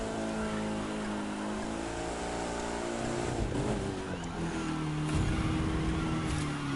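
Engine revving hard during a street drift race in The Crew 2 video game, a loud, sustained roar with pitch rising and falling as the car slides through corners.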